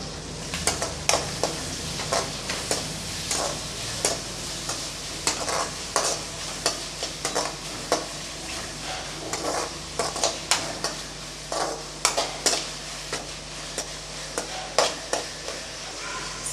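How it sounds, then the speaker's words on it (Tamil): Chopped medium-sized tomato chunks are stirred and sautéed in a pan for sambar, a steady close sizzle broken by frequent sharp scrapes and clinks of a spoon against the pan, with no speech. "ரெண்டு மீடியம் சைஸ் தக்காளி கட்டியாக கட் பண்ணி வச்சுருக்கேன் இப்போ அதை சேர்த்துக்கலாம் சேர்த்து நல்லா வதக்கி விட்டுறலாம்"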